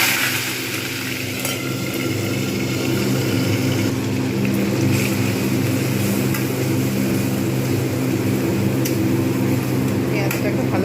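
Onion paste fries with whole cumin seeds in a pan for a restaurant-style mixed vegetable kofta curry, giving a steady, loud sizzling hiss that runs unbroken over a low hum.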